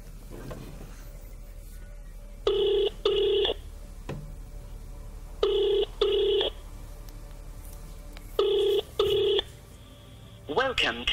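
Outgoing call ringback on a phone: repeated double bursts of electronic ringing at steady intervals, fairly loud over a faint background hum, with a short rising tone at the end.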